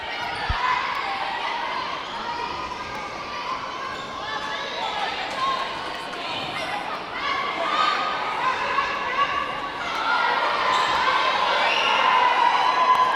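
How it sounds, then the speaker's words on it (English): Crowd at a high school netball match in Tūranga cheers and shouts loudly and steadily, the noise building toward the end, with commentators talking over it and a ball bouncing. "She's got her second goal and the crowd here is happy. They're going crazy."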